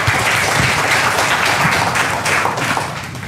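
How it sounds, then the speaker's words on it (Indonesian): A seated crowd at an Indonesian health talk claps together in a loud, dense burst of applause that stays even and close for the whole stretch without any voices. "Tepuk tangan dulu buat kita semua yang pengen muda-muda ya."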